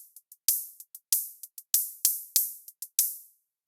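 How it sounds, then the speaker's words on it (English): Shaker hits made on the noise channel of a Nord Drum 3P, a dozen short bright hissy strokes in an uneven rhythm, some soft and clipped, others louder with longer decaying tails, heard alone. "with only the noise you can make some super fun shaker sounds like this"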